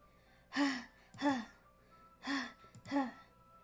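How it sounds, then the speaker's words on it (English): Sharp breaths sucked in through the teeth, heard as four distinct gasping inhales in an irregular rhythm, close and fairly loud against a quiet background. "A sharp inhale like someone is sucking in the air through their teeth."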